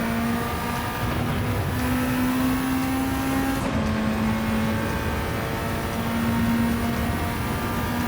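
A Honda EF Civic Si engine at full throttle in the Gran Turismo 7 video game, a steady, strained high-revving drone with a brief gear change midway, held loud and continuous throughout, no voices.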